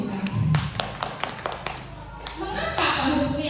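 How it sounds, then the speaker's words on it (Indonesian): Teachers applauding at a school dissemination session in a classroom or hall, a burst of scattered claps and taps ringing out fairly close with some background voices. "Tepuk tangan untuk Bu Mita."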